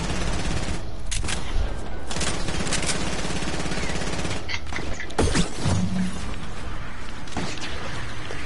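Turret gunfire in a Fortnite battle royale match, a sustained rapid fusillade of loud mechanical shots with brief pauses and a few heavier impacts.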